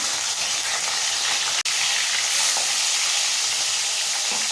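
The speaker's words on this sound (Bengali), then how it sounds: "তেল গরম হয়ে গেছে মাছগুলো দিয়ে দেবো" Pieces of rui fish, rubbed with salt and turmeric, fry in hot oil with a steady, dense sizzle throughout. A brief cut interrupts it once near the middle.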